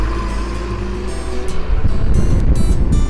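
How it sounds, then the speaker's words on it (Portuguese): A water tanker truck works at a dam construction site, its diesel engine rumbling steadily and close, then growing louder and rougher toward the end, with no voices. "Ó, o caminhão pipa aí, pessoal, tá trabalhando"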